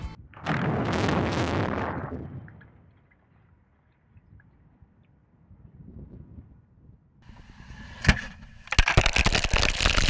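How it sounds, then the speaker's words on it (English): A ventilation stack at the Plutonium Finishing Plant on the Hanford Site is felled by explosive demolition: a loud, rumbling blast, then a low collapse rumble, then a sharp crack and a crackling burst near the end. "This year, explosives brought down PFP's ventilation stack,"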